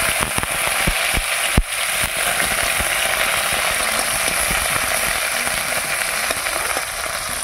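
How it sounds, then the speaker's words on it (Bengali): Onions tossed into hot oil in a wok make a steady, close hiss and crackle, with scattered sharp pops across the dense broadband sizzle; nobody talks. "এবার তেলের মধ্যে দিয়ে দিচ্ছি 2-4টে পেঁয়াজ দিলাম।"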